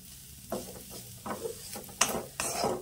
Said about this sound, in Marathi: वल्ल असल्यामुळे ना खोबरं भाजायला थोडासा वेळ लागतो आणि थोडंसं लालसर करून घ्यायचंय आपल्याला